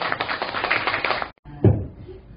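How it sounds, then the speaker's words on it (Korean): An audience at a literary book concert claps for a poet, a close, busy patter of hands that stops abruptly, followed by a single thump and low room noise. "여기용 시인에게 다시 한번 뜨거운 박수 부탁드립니다."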